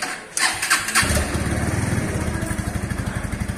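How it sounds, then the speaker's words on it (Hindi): A Bajaj Pulsar NS160 BS6 motorcycle engine cranks briefly, then catches and settles into a steady, close, rhythmic idle with an even thumping pulse; nobody speaks. "अभी बाइक स्टार्ट हो गया है"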